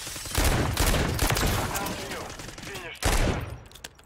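JAK Beholder rifle fire in Modern Warfare 3, loud close bursts of gunshots at the start and again near the end, with game noise trailing between them.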